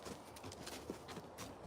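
Hooves of a large, heavy-set horse clip-clop at a walk on an outdoor ranch on a sunny day, a faint, loosely spaced patter of steps over a low background hiss.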